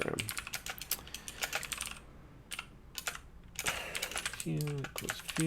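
Rapid keystrokes on a computer keyboard while an Elm program is entered, clattering in quick bursts with a short pause in the middle, and a brief voice near the end.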